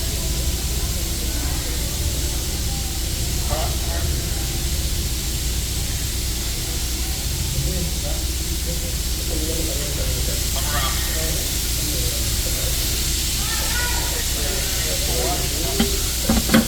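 Nitrogen plastic welder running during a weld: a constant, even hiss of gas flow close by, with faint scraping and tapping underneath and no pauses.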